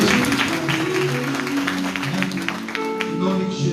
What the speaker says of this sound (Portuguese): Pode aplaudir a Deus